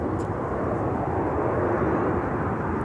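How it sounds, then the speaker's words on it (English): An ex-Northwest Airbus A320 departs on the north parallel runway 30R at MSP, a steady, loud jet roar held throughout with no other sounds. "A departure on the north parallel runway 30 rights with an ex-Northwest A320."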